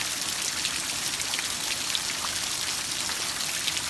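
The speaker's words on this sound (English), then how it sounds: "Man, it's really hailing." Hailstones fall steadily during a sudden storm, a dense, continuous patter of ice striking surfaces and an outdoor air conditioning unit, even and moderately loud throughout with no talking.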